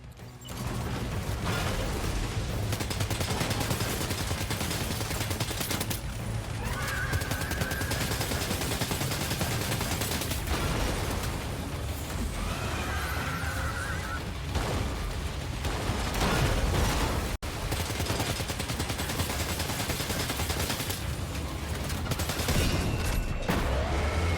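An assault rifle fires in the action game Death Stranding 2 as dense, continuous bursts of gunfire and clatter run loud and unbroken throughout, with no voice heard over it.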